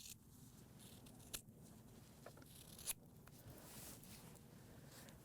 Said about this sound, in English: I'm actually going to use scissors, and I'm going to cut that entire piece off underneath.